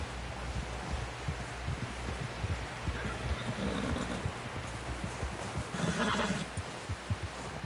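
Horse hooves clopping steadily in a video game, with a horse whinnying over a busy, continuous background of rustling ambience.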